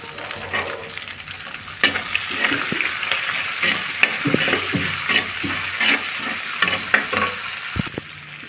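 Small onions frying in a pan, a loud crackling sizzle under repeated scraping stirs and spatula knocks in an irregular rhythm, close by, with no talking.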